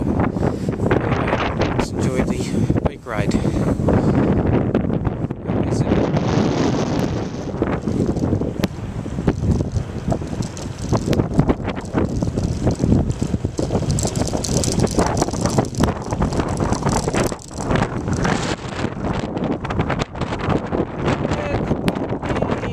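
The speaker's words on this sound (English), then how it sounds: "And the wind is blowing today." Wind gusts straight into the microphone on the boardwalk at Seaside Heights in springtime, a loud, ragged rumble that buffets without a break through the whole stretch and nearly drowns a voice talking beneath it.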